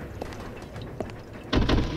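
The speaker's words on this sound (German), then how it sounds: "Ah, das war die Tür." A door in Resident Evil Zero opens after a few quiet clicks and rattles, then lets loose a loud, full swell of noise that continues to the end.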